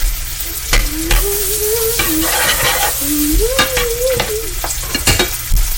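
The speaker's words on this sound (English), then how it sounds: "Gotta mix it around with the spoon" A spoon stirs lemon pepper into butter, giving close scraping and clicking taps over a soft sizzle, with a thin whistling tone rising and falling through the middle.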